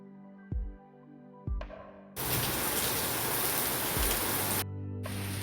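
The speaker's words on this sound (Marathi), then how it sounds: "पावसाचा खूपच आवाज येत असेल" Heavy rain during an evening downpour, a loud, dense roar that bursts in partway and holds for a few seconds before cutting off, with music playing around it.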